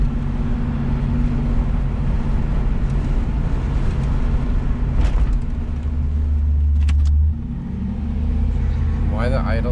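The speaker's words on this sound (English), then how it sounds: "Why the idle is so high" A 1984 Camaro Z28 engine idles high with a steady, loud, close drone that shifts slightly in pitch, and a person talks over it.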